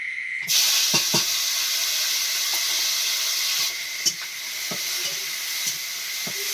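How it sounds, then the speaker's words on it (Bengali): Onion, green chili, tomato and garlic sizzling in a wok over an outdoor cooking fire, a steady loud hiss throughout with occasional stirring clinks and scrapes. "কড়াই দিয়ে দিচ্ছি পেঁয়াজ, কাঁচা লঙ্কা, টমেটো আর রসুন কুচি।"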